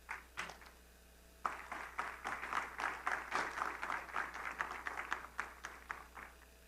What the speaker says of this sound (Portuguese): vamos receber com uma calorosa salva de palmas o candidato à presidência da República